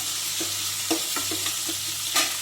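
Chopped shallot onions sizzle steadily in hot oil in a pan for potato masala, with a spoon or spatula stirring and scraping at intervals; close and fairly loud, no talking.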